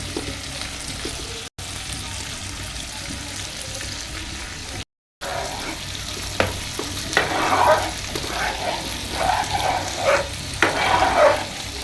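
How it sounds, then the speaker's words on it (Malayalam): Ghee is poured into a jackfruit preserve being cooked down with jaggery. Steady stirring and sizzling run throughout, with sharper bursts of frying in the second half and no talk. "നെയ്യ് ഒഴിക്കാൻ കേട്ടോ."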